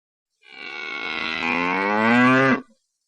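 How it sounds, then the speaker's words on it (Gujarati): A cow gives one long, loud moo close by, a drawn-out lowing call that deepens in pitch before stopping abruptly, with nothing else around it. "ગાય ભાંભરે"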